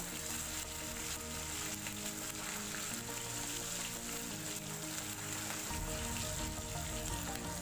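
Fish pieces frying in hot oil while cooking water leaf dishes, a steady close sizzle and crackle with a brief change in tone near the end, and no talk.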